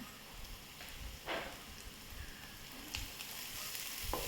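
Curry leaves sautéing in a pan for a bitter gourd stir-fry, giving a steady soft sizzle with a few brief louder crackles and stirring scrapes, close and fairly quiet.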